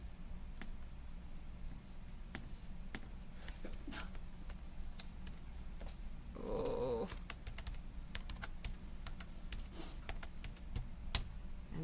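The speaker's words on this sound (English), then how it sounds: "Type it all into your calculator" Quiet, scattered clicks of keys being tapped in quick succession on a calculator, close but faint, with a brief louder hum around the middle.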